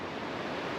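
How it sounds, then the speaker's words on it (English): A river on New Zealand's west coast rushes past in a dense, unbroken roar, loud and close throughout the brief moment. "We're down at the river now."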